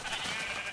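Sheep in the Minecraft video game give a single short, quiet bleat.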